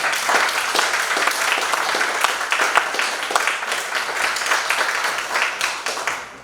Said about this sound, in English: can we all just give Elijah Cummings and the work he did with his life a round of applause?